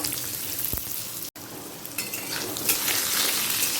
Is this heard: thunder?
no